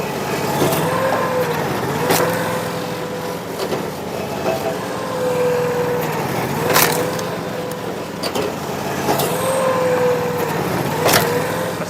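A firewood splitter's small engine runs steadily while wood is resplit, its drone rising and labouring in repeating cycles every couple of seconds, with sharp cracks and knocks as pieces split.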